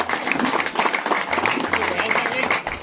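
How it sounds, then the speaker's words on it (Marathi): Dense applause with clapping fills the whole stretch, steady and close, at a temple ceremony honoring donors at the Sateri Devi shrine in Chipi village, Sindhudurg. "त्यांच्यासाठी जोरदार टाळ्या"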